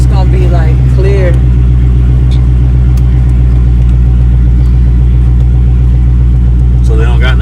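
A modified car exhaust rumbling steadily at idle, loud and close, a constant low drone under brief bits of talk near the start and end.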